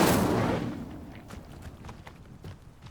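Incendio fire spell cast in Hogwarts Legacy: a loud fiery burst and whoosh at the start that fades within a second, followed by scattered crackles and small pops.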